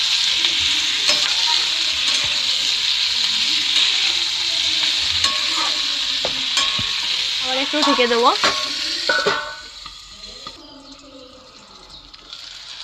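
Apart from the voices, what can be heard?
beans and potatoes frying and being stirred in a pan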